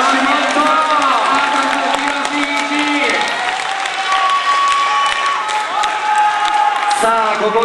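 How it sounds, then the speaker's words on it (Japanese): A crowd claps and cheers at a BMX flatland final in Komatsu, Japan, with loud, continuous applause and shouting while an announcer talks excitedly over it throughout. "さあ拍手と声と歓声"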